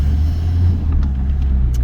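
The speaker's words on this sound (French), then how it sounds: "ce bus prend beaucoup de place" A bus passes close by in a city street, its deep engine rumble loud and steady throughout, with faint traffic hiss above and no voices.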